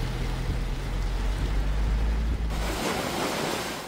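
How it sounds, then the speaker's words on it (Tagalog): Large waves crash and surge along a resort shoreline during a typhoon in Luzon, a loud continuous roar of surf mixed with wind buffeting the microphone, swelling into a brighter wash near the end. "naperwisyo ng malalaking alon ng ilang resort."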